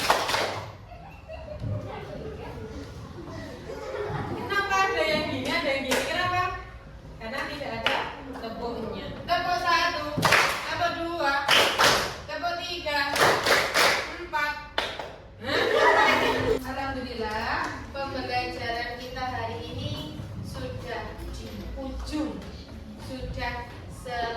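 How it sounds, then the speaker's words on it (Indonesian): Rhythmic hand clapping in counted patterns, sharp bursts of claps grouped in short sequences between stretches of talking and chanted counting, with a few scattered chuckles, close and moderately loud. "Tepuk 1, tepuk 2, tepuk 3, tepuk 4"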